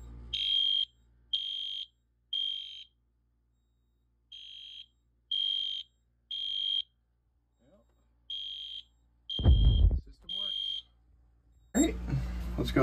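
A dirty smoke detector sets off a fire alarm system, beeping loudly in repeating sets of three piercing tones, with brief rustling and a short voice near the end.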